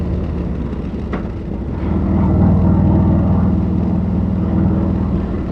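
A 2024 Harley-Davidson Road Glide motorcycle cruises down a smooth road, its engine a deep, steady rumble that swells slightly mid-ride, loud and continuous with no talking.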